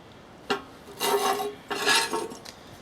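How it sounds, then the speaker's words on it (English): An old bent bolt is ground off in a backwoods workshop: a short scrape, then two longer harsh rasping bursts of metal abrasion up close, with a brief final scrape. "grind that off"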